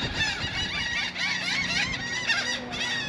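Birds calling near a boat where they are being fed bits of cheese, with a continuous chorus of overlapping loud, squealing, honking cries close by.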